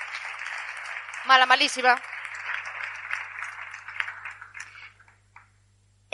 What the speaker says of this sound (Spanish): Un aplauso para ella, que es voluntaria